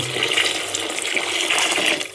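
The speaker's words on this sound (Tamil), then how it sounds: "அதில் இப்போ தண்ணி ஊற்றணும் தேவையான அளவு" Water poured into a cooking pot for mango biryani, a steady rushing, splashing stream that runs continuously for about two seconds before easing off at the end.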